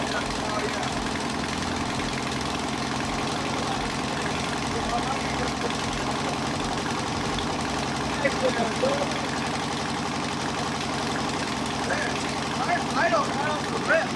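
A 1974 VW Beetle barn find, its engine running steadily with a rough, knocking idle that stays close and loud throughout, while people talk over it.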